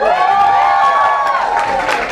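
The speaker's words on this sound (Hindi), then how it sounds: "ध्रुव की फैमिली के लिए तालियां हो जाए।" A crowd at a sangeet celebration breaks into steady applause and cheering for the groom's family, a dense roar of clapping at a constant level while music plays along.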